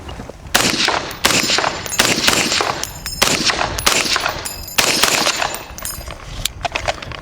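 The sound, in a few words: FightLight MCR belt-fed rifle firing semi-automatic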